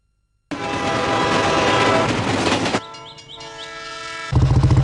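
Train roaring past with a loud, dense rumble and a sustained horn, then steady rail clatter, followed by a sudden low pulsing engine sound near the end, all heard in a bike advertisement.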